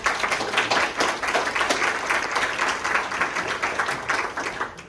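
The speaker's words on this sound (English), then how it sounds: "can we give her a round of applause now?" Audience at an evening talk event at a camp venue applauding steadily, a dense wash of overlapping hand claps holding at an even level for the whole stretch, then easing slightly at the end.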